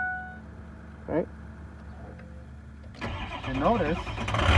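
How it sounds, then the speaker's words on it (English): A car engine cranks and catches, then settles into a loud idle. A voice is heard briefly just before it starts. "I have to start the car so that the data bus can start communicating."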